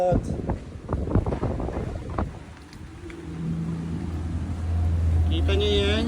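Strong wind roars through an Ontario snowstorm, gusting and rumbling steadily while a person speaks over it early on, then a low engine-like drone and a faint chirp appear near the end.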